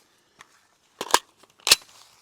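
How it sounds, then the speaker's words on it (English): Shots from a Cobalt Kinetics .300 Blackout rifle striking steel targets, a faint tick then two sharp cracking impacts close together, followed by a third crisp crack, each with a short ringing tail. "me shooting the steel is so loud compared to the actual report of the round itself"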